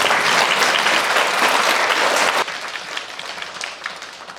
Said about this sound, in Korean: 축복의 박수 하시며 들어가시죠